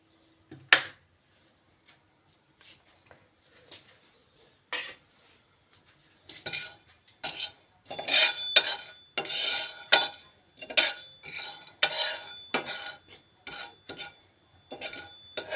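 Whole spices are poured into a hot pan and stirred, with an early clatter and then a busy run of metallic scrapes and clinks growing louder and faster, close by.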